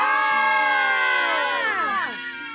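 Several people shout together in a long, sustained group yell at the Piedra del Grito rock on Cerro Quininí, voices held loud and steady before sliding downward and fading out at the end.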